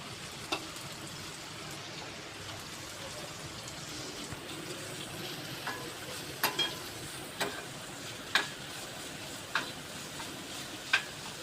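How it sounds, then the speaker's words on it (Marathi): Chopped onion frying in oil with cumin seeds, a steady broadband sizzle throughout with several sharp spatula clinks and stirring scrapes scattered over it, close and moderately loud. "आता मला यामध्ये कांदा टाकून घ्यायचा मी पराठ्यामध्ये कच्चा कांदा वापरत नाही थोडंसं मी तेलामध्ये पलटून देते"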